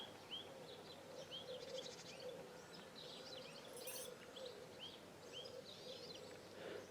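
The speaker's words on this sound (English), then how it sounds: "Just listening to the bird song." Birds chirp and trill repeatedly over a quiet outdoor background, short calls scattered throughout at a moderate distance, with a faint steady hum beneath.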